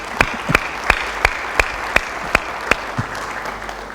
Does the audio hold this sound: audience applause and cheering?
yes